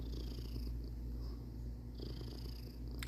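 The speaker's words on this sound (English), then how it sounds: "he's purring because he gets to lay on my throw" A cat lying on a soft throw purrs in a continuous low rumble, close and quiet, with a steady rhythmic pulse and no voices.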